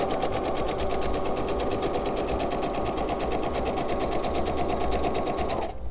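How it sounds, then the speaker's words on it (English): A sewing machine stitches quilt block pieces along a scant quarter-inch seam, running close and steady without a break for the whole stretch before it stops abruptly at the very end. "lay one on top of the other carefully, and keep sewing."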